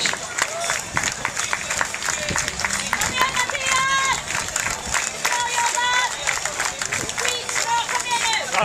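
Crowd at the finish of the Kalmar half marathon claps and cheers steadily for arriving runners, a dense continuous patter of applause with scattered whoops and chatter throughout.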